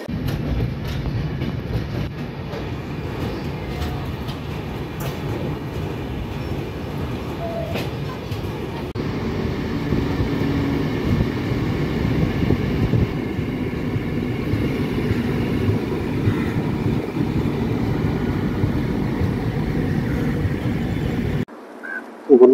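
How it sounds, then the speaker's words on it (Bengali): The Padatik Express runs toward Sealdah in the early morning with a continuous close rumble and rhythmic wheel clatter from on board. It holds steady for about twenty seconds before cutting out abruptly. "ট্রেন একদম রাইট টাইমে আছে। এখন আমাদের শিয়ালদা ঢুকবে।"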